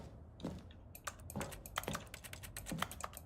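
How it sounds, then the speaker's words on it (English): Computer keyboard keys clack in The Stanley Parable video game, irregular bursts of quick taps with a few heavier strokes, faint and close, with no voices. "Wait, it still has the keyboard sounds."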